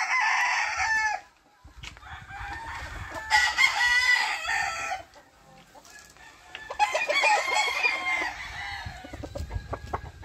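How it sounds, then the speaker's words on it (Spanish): Black gallino rooster clucking and crowing close by, with bursts of harmonic crowing separated by quieter clucks and pauses. "Este es un gallo gallino negro"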